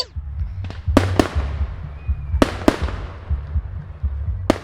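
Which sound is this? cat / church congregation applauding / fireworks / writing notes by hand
fireworks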